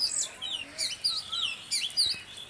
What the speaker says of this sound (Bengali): পাখি সুন্দর করে ডাকছে।